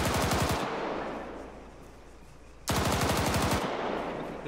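Automatic gunfire from a weapon in the video game Arma 3, two loud bursts of rapid shots, one at the very start and another after a quiet gap, each close and dense.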